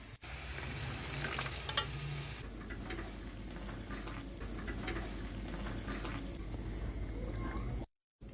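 Masala sizzling in hot oil in a pan as boiled lentils for dal makhani are added, steady frying hiss with soft stirring and a faint wet splash, quiet and close.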